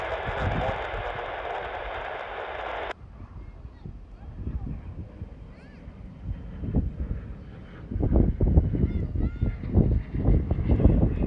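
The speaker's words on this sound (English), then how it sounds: "The wind is picking up here in San Antonio." Gusty wind at an outdoor airshow in San Antonio, Texas, rumbling and buffeting against the microphone, growing stronger and louder toward the end, with a brief burst of broadband noise at the start and a voice talking.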